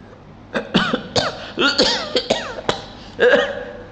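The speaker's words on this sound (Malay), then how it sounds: "Batuk pula." Several sharp coughs come in quick succession, close and loud, forming an uneven fit of coughing with a harsher, throaty final cough.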